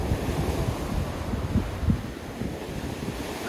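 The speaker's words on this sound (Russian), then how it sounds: "На море волнение." Sea waves wash steadily onto the Black Sea shore at Sochi on a choppy day, a continuous rolling surf with occasional louder breaks and some wind buffeting the microphone, no voices.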